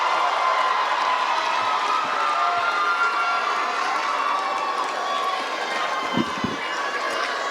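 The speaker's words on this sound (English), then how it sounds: "let's give them a round of applause" A large audience at a winter school graduation claps and cheers for the graduates, a dense, steady roar of applause and shouting that fills the whole stretch at close, even loudness.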